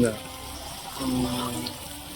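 River water pumped to taps at a riverside bathing area during the Saraswati Pushkaralu festival at Kaleshwaram runs in a steady stream, with voices talking over it.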